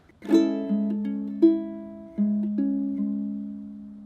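A fingerstyle ukulele picks a pattern, a handful of plucked notes in a slow, even rhythm, one string held longer while others ring out, close and quiet with no voices.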